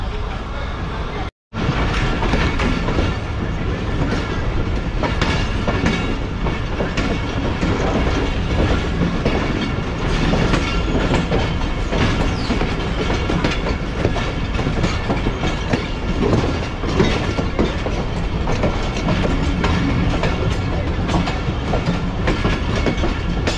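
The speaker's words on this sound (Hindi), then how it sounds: "आहिस्ता आहिस्ता ट्रेन डिपार्ट कर रही है" Rehman Baba Express passenger train rolling slowly out on a Karachi to Bahawalpur run, heard from inside with a steady rumble and clickety-clack of wheels over rail joints, continuous and close, briefly cut near the start.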